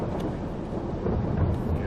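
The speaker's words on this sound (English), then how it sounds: "the lightning started up again" Thunder rumbles during a storm in Farming Simulator 22, a low continuous roll with rain-like noise, steady and fairly loud, with no talking.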